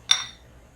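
Spoons clinking against a glass bowl, a single bright clink ringing out briefly and fading over a low background hum.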